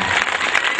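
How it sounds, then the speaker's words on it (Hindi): Brief burst of applause from a mushaira audience, a dense patter of many hands clapping at once, loud and sustained for under a second with no speech over it. "जरा सा ताली वाली बजा के इन्हें यकीन दिलाइए कि आप गीत सुनना चाहते हैं।"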